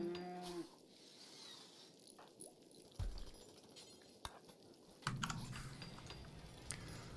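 Cattle mooing in the video game Rimworld, a few low bellowing calls rising at different moments, fairly clear against a quiet game soundscape, with no talk over them.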